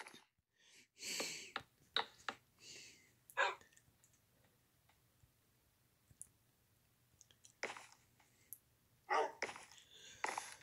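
Dogs in the Minecraft video game give short, sharp barks and yips in scattered bursts, close and clear, over a quiet background with no talking.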